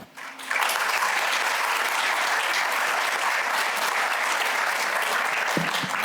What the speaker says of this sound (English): I'll be sure to tell them there was applause.